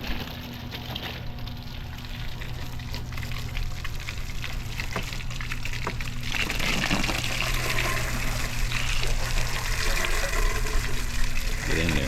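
Water rinses soap off a Honda Goldwing motorcycle during a wash, a steady close gushing spray running for several seconds and getting slightly louder toward the end.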